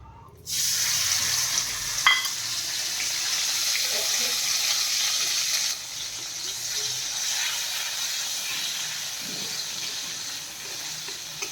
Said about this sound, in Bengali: এর উপরে এবার টমেটো আর একটু কাঁচা লঙ্কা দিয়ে দেবো দেখো